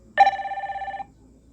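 An iTel Fit O23 Plus smartwatch plays its ringtone: one short, bright trilling electronic ring that lasts under a second, with a steady rapid warble, close and clean, no speech.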